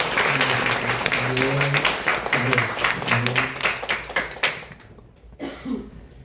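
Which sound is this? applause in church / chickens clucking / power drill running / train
applause in church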